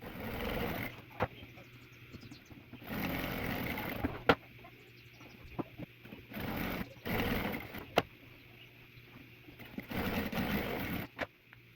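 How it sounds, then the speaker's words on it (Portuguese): Sewing machine stitching strips of fabric scraps face to face for a patchwork toiletry bag, running in several bursts of whirring separated by pauses and small clicks, moderately loud and close. "Posiciona frente com frente, leva na máquina e costura."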